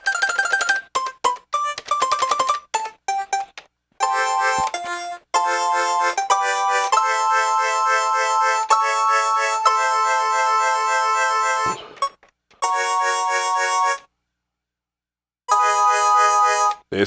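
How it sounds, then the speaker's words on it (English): A Japanese synthesizer plays bright, sustained tonal notes and short stabs in bursts with abrupt gaps of silence between phrases, clean and close with no talking. "It's a Japanese synth."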